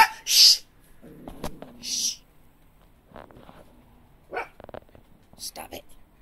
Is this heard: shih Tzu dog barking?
yes